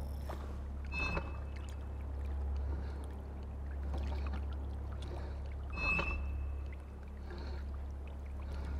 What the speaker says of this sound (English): Hiding under a sprinkler's jet can cover the noise you make.